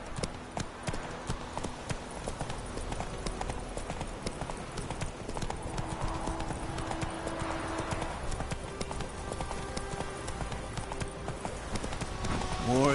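Hooves of the horse Roach from The Witcher 3 clip-clopping at a steady walking rhythm throughout, fairly quiet, with voices talking over the footsteps.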